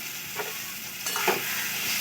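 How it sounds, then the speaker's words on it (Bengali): Yardlong beans and ridge gourd frying in a pan, a constant close sizzle with a couple of soft scraping stirs over it. "আমার বরবটি আর ঝিঙে খুব ভালো করে ভেজে নিয়েছি"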